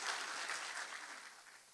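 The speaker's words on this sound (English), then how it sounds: "What do you think about another round of applause?" Applause from the audience at a scholarship award ceremony in Southern California, a steady wash of clapping heard faintly and at a distance, slowly fading over a couple of seconds.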